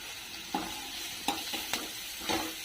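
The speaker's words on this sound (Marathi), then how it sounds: "आता कांदा टाकून घ्यायचा आपल्याला कांदा चांगला परतून घ्यायचा भाजून द्यायचा चांगला" Chopped onion stir-fried in hot oil for masala rice, a steady sizzle with several scraping stirs of a spoon against the pan, close and fairly quiet, no voices.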